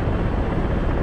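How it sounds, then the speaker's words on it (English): An L-39 jet engine in the combat flight simulator DCS World gives a steady, loud, broadband roar, heard close and alone with no voices. "the L39 is the industrial strength hair dryer"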